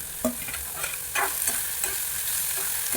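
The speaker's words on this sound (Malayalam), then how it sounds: "ഈ സവോളയും പച്ചമുളകും ഒന്ന് അതിലിട്ട് വഴറ്റിയെടുക്കണം." Sliced onion and green chillies sauté in coconut oil in a wok-style pan, giving a continuous close sizzle with rhythmic scraping strokes of a spoon stirring them, and no voices.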